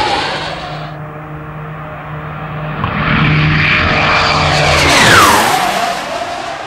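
A Royal New Zealand Air Force Orion turboprop patrol aircraft flying past at an airshow, a broad engine roar rising and sweeping down in pitch as it passes close overhead, loud and steady with no talk.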